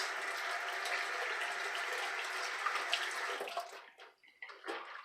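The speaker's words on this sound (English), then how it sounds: "Let's rinse off." Running tap water as someone rinses off after a shave, a steady hiss of flowing water that breaks into splashy, uneven bursts toward the end.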